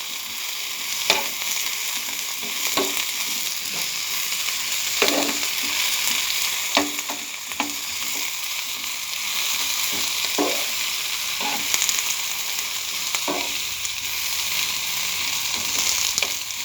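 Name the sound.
tomato chutney ingredients frying and being stirred in oil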